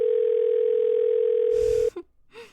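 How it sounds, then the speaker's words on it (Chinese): A steady telephone dial tone hums continuously while a call is being placed, then cuts off abruptly, followed by a short shuffle and faint clicks. "我现在就给谭总打电话"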